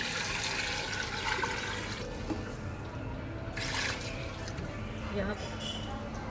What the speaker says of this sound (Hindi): 8 गिलास पानी शामिल करेंगे।